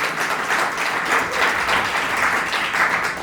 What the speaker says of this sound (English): give Joseline a round of applause